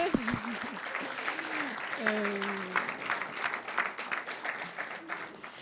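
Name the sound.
audience applauding the mayor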